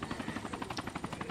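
Helicopter flying in the video game DayZ, its rotor beating in a fast, steady chop that stays loud and close throughout.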